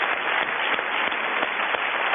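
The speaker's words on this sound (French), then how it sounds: "On s'applaudit" A French television game show studio audience claps steadily, producing a dense, even patter of applause that stays at a constant loudness for a couple of seconds.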